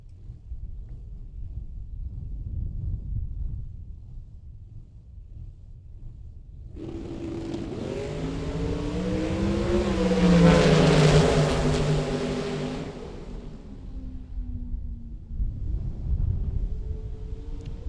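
Drag race cars pass the tower at a Las Vegas bracket race with a rising, rough engine roar. It builds from a low background rumble, peaks loudly mid-pass and then fades, with some wind noise on the microphone.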